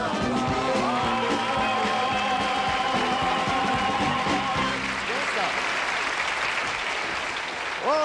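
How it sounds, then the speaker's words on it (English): Studio audience applauding on a 1975 musical game show, a full round of clapping that carries on under musical tones and fades toward the end. "give ourselves a round of applause"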